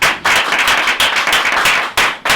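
Audience applause welcoming Etienne Mbappé at a press conference in a venue called Palapala, with dense, loud clapping that swells and resets in quick waves, close and filling the room with no voices over it.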